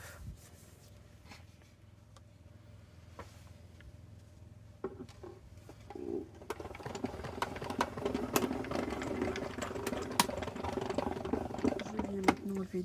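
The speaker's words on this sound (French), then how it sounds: "dans ma machine de découpe." An electronic die-cutting machine runs as a paper card with a heart held in place by adhesive tape passes through it for a Valentine's card. A low, steady mechanical whir and patter grows louder about halfway through and continues to the end, with a voice over it.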